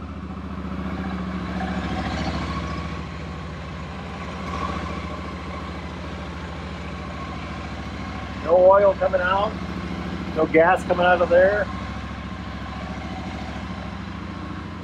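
A Royal Enfield Super Meteor motorcycle engine idles in a steady low rumble at close range, heard just after its first service, while someone talks over it in two short bursts.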